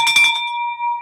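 A bell is struck once, a clear metallic ding that follows a short clatter and rings on as a pure, sustained tone.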